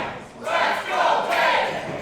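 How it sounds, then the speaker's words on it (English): A wrestling arena crowd chants steadily for the referee, a loud, continuous roar of many voices rising and falling in waves across the whole stretch. "Crowd chanting for the ref to get up."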